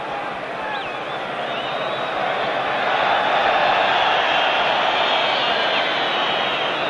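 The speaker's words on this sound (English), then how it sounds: "some discontent in this vast crowd from the Napoli fans" A vast stadium crowd of discontented Napoli fans murmurs and jeers at a 1986-87 Serie A match against Inter. The roar is broad and sustained, growing somewhat louder partway through.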